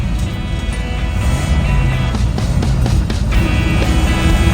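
A hot rod dump truck drives along with a loud, steady engine roar, a noisy rear end whining underneath and tires thumping. Brief rattling clunks come as the gears are shifted, all heard close up inside the cab.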